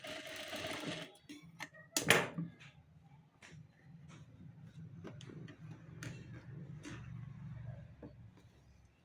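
A sewing machine stitches a blouse katori in short bursts of quick, rhythmic whirring and ticking. A sharp clack sounds near the start, and the machine runs faintly and steadily under it.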